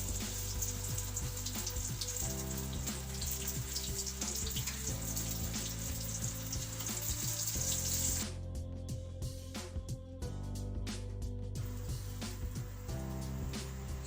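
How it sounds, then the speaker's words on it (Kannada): An aloo paneer bird nest frying in hot oil gives a continuous close hiss and crackle, much like running water, under steady background music that briefly thins out partway through. "ಸೊ ಇದನ್ನ ನಾನು ಇವಾಗ ಈ ನೆಕ್ಸ್ಟ್ ಫಸ್ಟ್ ಆಯಿಲಲ್ಲಿ ಫ್ರೈ ಮಾಡ್ತೀನಿ"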